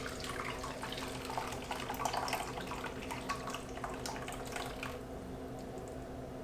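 Dairy-free sweetened condensed milk pours and drains through a strainer in a kitchen, giving a steady wet trickling and splashing that runs continuously at moderate level, with faint background hum and no talk.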